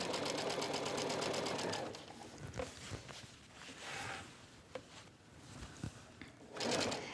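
A home sewing machine with an edge joining foot stitches a casing onto a tank dress, running in a steady rapid whir, pausing amid light handling noises, then starting up again at the end.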